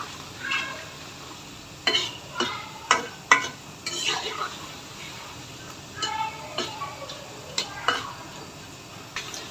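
Potato fries coated in flour frying in hot oil, with a low steady sizzle under repeated sharp clinks and scrapes of a utensil stirring against the pan, spaced irregularly and heard close.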